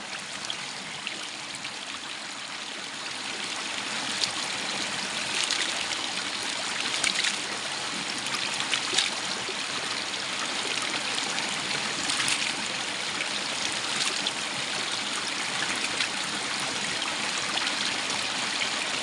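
A river flows in a steady broad rush, close and continuous for the whole stretch, with faint gurgles and trickles over the even wash and no talking.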